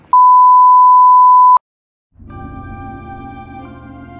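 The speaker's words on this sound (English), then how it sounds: "Oh, that's my alarm." Alarm beeping: one loud, steady electronic tone held for about a second and a half, followed by a pause and then a low, buzzing hum.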